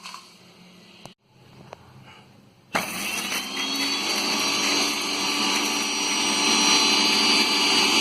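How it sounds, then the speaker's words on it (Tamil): A mixer grinder whirs loudly and steadily as it grinds dried red chillies, starting up after a quiet pause with a few clicks and holding a dense, continuous motor roar to the end. "முதல்ல மிளகாயை போட்டு ஒன்று அரைச்சிடலாம்."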